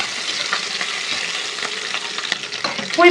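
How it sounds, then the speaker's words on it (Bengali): Chopped onion and green chilli frying in oil in a pan, a steady close hiss with faint crackles and a light stir near the end, no voices. "এইদিকে পেঁয়াজ কুচি আর কাঁচা লঙ্কা দিয়ে দিলাম এগুলো হালকা নেড়ে ছেড়ে দেবো"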